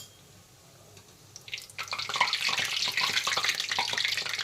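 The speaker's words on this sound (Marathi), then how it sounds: "झाऱ्याला पाणी होतं त्यामुळे ते तडतडते" Karanji pastries frying in hot oil, crackling and spluttering where a wet slotted spoon touches the oil, starting quietly then swelling into a dense, close sizzle with no talk.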